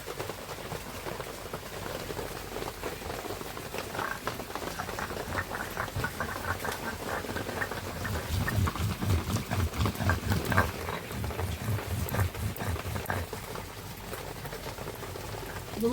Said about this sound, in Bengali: একটু আদা আর একটু জিরে লাগবে, সেটাই বেটে নেবো ভালো করে